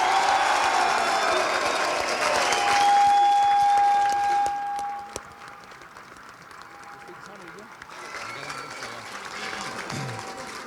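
Crowd applause for Loughrea manager Tommy Kelly at the Galway senior hurling final, loud and sustained at first, then thinning to scattered claps under a steady tone and talk.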